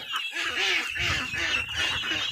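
Ducks quack in quick, nasal bursts close by, several calls overlapping in a short noisy flurry.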